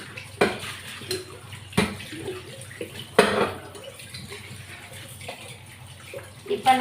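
Water splashing and poured over dishes and pans in a sink during washing, sharp clattering splashes every second or so against a steady trickle, close and fairly loud.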